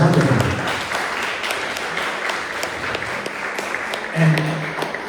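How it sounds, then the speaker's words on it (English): An audience at a panel event on Black history in Philadelphia applauds for the panelists in a steady, moderate wash of clapping, with a short burst of speech near the start and again toward the end. "Another big round of applause for our panelists."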